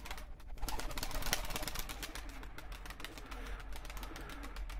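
Faint pigeon cooing sits under a constant noisy, rustling background, soft and somewhat distant.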